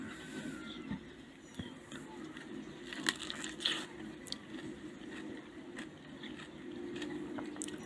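Someone bites into a Flaming Fury PF 5B peach, from the tree's first fruiting in Volyn region, giving a few soft, moist crunches and squishes around the middle over low room noise.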